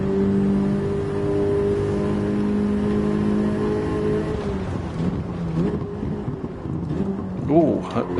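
A car engine in the racing video game Gran Turismo 7 hums at steady revs, then shifts and revs up with rising whines, exhaust tones rasping close by while a voice speaks over it.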